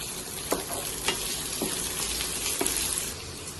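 Red and yellow capsicum stir-fried in a pan, a dense continuous sizzle broken by sharp periodic scrapes of stirring, close and fairly quiet with no voices.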